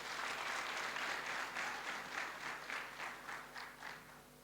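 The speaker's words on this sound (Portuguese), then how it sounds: "Uma salva de palmas, por favor." An audience at a youth dialogue event in Bié Province, Angola, gives a young entrepreneur a round of applause, a steady wash of many hands clapping that thins slightly toward the end, heard fairly faintly from a distance.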